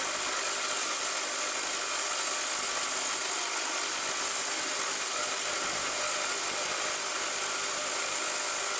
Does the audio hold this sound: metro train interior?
no